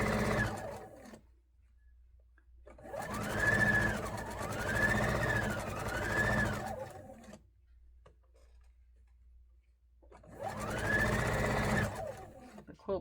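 A sewing machine joins quilt blocks in bursts of rapid rhythmic stitching, two longer runs separated by quiet pauses, with no talk over the machine.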